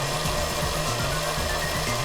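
An electric mixer whirs steadily at a raised speed through banana bread batter, a dense continuous mechanical drone with a faint rhythmic rattle, close and loud, with no talking.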